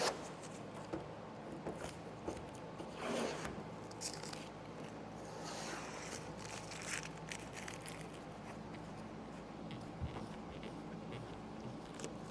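Masking tape peels away from a freshly wet-sanded painted car surface, a soft, drawn-out ripping and crinkling rustle heard close and quiet, with faint handling noises around it.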